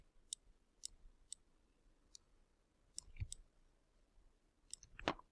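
Sharp computer mouse clicks come singly and in small clusters, spaced irregularly against quiet, with a couple of louder clunky handling sounds near the end.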